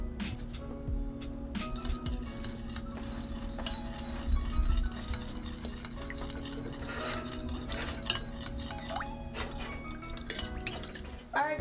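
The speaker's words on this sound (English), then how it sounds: "the half a cup of coffee, sugar, and the Bailey's mixture. And we're gonna stir it well." A spoon stirring coffee, sugar and Baileys together for tiramisu, giving steady clinking and scraping against glass or a dish, close and continuous with a few louder taps.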